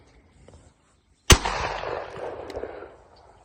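A single loud .410 shotgun blast at a trap clay, sudden and close, followed by a long fading echo rolling out over a quiet field.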